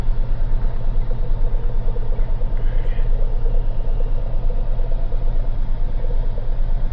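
Chevrolet C3 Corvette with 52,000 miles idling close by, a loud, steady, rumbling engine throb with a regular pulsing beat and no pauses.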